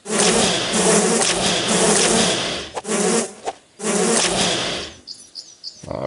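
A swarm of mosquitoes in the video game Divine Divinity makes a loud, dense buzzing drone that runs nearly continuously, breaking off briefly a few times, with no voices over it.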